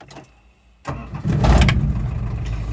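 Citroën C15 van engine starting after an oil change: a brief starter crank bursts into a rough, close-up catch, then settles into a steady, loud idle rumble with no talking.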